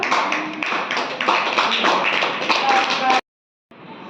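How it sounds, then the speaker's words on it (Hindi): Schoolchildren in a fifth-grade classroom clap together in a dense, rapid burst of hand claps lasting about three seconds before stopping abruptly, followed by quieter room noise. "ताली बजा दो सब"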